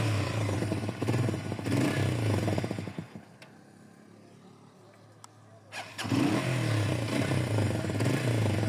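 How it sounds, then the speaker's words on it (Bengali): A Lifan KPR 165R motorcycle engine runs with a loud, throaty idle, drops away to near quiet for a few seconds, then restarts and settles back into a steady rumble. "গাড়ির সাউন্ডটা আপনাদের শোনাই স্টার্ট দিয়া।"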